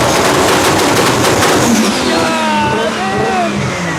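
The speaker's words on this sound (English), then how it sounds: "Why don't we hit a little two-step?" A heavily modified roughly 1600 horsepower Toyota Supra holds high revs on two-step launch control, a loud crackling, popping engine roar up close that steadies then eases slightly, heard alone.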